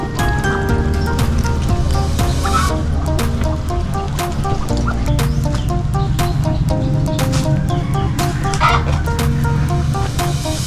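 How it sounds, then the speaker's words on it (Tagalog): Ducks and chickens cluck and chatter in the shade under a mango tree on a backyard poultry farm, a dense, continuous, fairly loud mix of bird calls with scattered sharp clicks. "Dito po mga pato saka mga manok, dito sila sa silong ng mangga."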